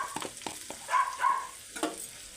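Salt, turmeric, red chilli powder and coriander powder sizzle in a pan for an aloo matar kachori filling, with a bright crackling fry and short scraping stirs close up and no talking.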